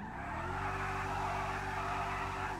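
Mercedes-Benz AMG C63 S engine in GTA 5, a steady droning idle or rev held for a couple of seconds, moderately loud and alone with no talk.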